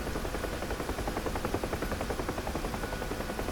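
A helicopter in the DCS flight simulator game produces a steady, dense rotor and engine drone with a fast rhythmic chop throughout, constant in level, with no talk.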